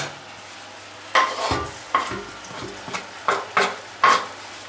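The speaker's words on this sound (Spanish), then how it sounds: "vamos a proceder ahora a echarle en esta otra sartén un chorrito de aceite. Ya tenemos el fuego encendido y vamos a echar el ajo lo primero." Garlic dropped into a splash of hot olive oil in a frying pan sizzles, with a series of sharp stirring and scraping clicks at close range over a low, steady hiss.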